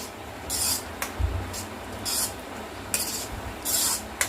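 Soft dry rustling bursts of dried fenugreek leaves (kasuri methi) rubbed between palms, coming in short repeated rubs with brief pauses, close and quiet.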